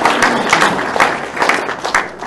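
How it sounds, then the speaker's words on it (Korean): Audience at a public special lecture in a plaza in Ilsan claps together, a dense, steady wash of applause with no voices over it. "이런 때는 박수 한번 치자."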